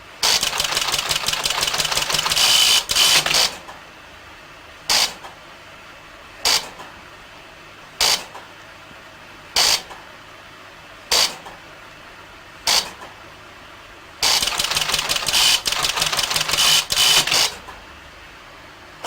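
Loud mechanical clattering from the rebuilt Colossus codebreaking computer and its printer breaking a cipher text, two long rattling bursts with a series of short, regularly spaced printer-like clacks between them.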